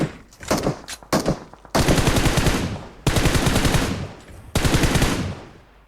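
Automatic gunfire in the mobile shooter PUBG Mobile: a few scattered shots, then three long, loud rapid-fire bursts in quick succession.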